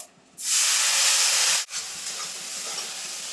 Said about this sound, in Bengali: আদা রসুনটা ভাজা ভাজা হয়ে গেছে এবার যে মশলাটা গুলে রেখেছি এটা দিয়ে দেবো